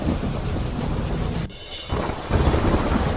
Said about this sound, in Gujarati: અમરેલી વડિયા શહેરમાં ધોધમાર વરસાદ.